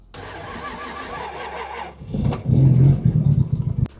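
A Mercedes body fitted with a Toyota Supra engine whines as the starter cranks, then catches with a loud, close roar and settles into a lumpy, uneven idle, with no one talking.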